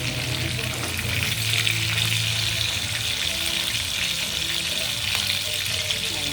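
Steady crackling sizzle of tilapia frying in hot oil, continuous and fairly close, with a low hum underneath.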